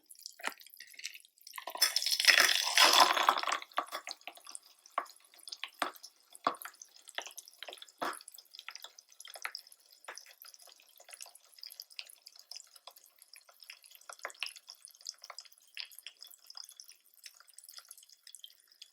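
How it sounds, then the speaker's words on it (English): Pop Rocks candy fizzing and popping in room-temperature water, a brief louder fizzing burst followed by scattered tiny crackles and pops that keep going, faint and close up with no talking. "you can hear by the sound and also see by the amount of bubbles forming that the room temperature is a faster reaction"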